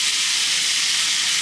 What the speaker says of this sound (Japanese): そしたらもうここに鶏肉入れていきます。